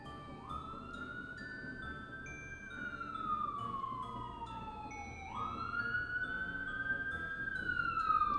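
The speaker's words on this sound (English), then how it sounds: "Y'all hear all these sirens?" Sirens from emergency vehicles, including fire trucks, wail outside an apartment with a rising and falling tone that swoops up and down across several cycles, steady and fairly prominent against a faint background, with no talking.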